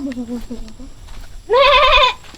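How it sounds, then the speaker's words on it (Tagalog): A goat on a rural Filipino property gives one loud, close bleat lasting about half a second, after a brief stretch of low murmuring. "Kanino kambing yan?"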